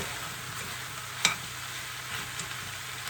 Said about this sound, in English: so you mix that all in, add your seasoning.